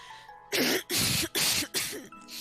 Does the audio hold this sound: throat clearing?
yes